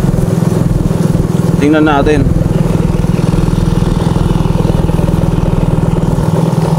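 Motorcycle engine running during a ride through floodwater, a loud, steady, rapidly pulsing drone throughout, with a short burst of speech over it.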